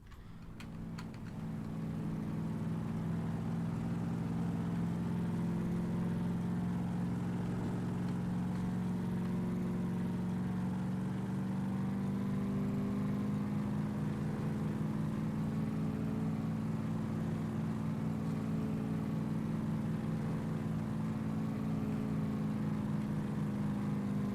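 Buggy engine in the DayZ video game, droning continuously while driving, a loud steady mid-low hum with slight pitch wobbles as speed shifts, heard alone with no talk.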